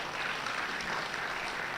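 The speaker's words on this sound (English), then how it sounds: "yes, we do need to clap for them" An audience at an education summit and graduation ceremony claps, a soft, distant, even patter of many hands sustained through the short stretch.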